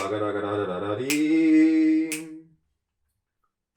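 A reed instrument plays a sustained low note, then slides up into a held tone with a couple of quick note changes, ending in silence.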